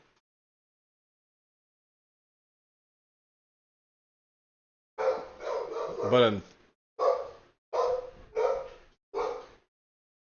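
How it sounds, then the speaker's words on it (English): A pet dog barks several times in quick sharp bursts after a long silence, fairly close and loud, with a word spoken just before. "my dog is going nuts."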